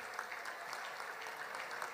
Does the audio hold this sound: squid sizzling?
no